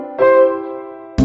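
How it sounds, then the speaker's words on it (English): A sustained bassoon note from a Mickey Mouse video game, one held reedy tone lasting about a second, followed by the sharp onset of another sound at the end. "A bassoon sounds like this."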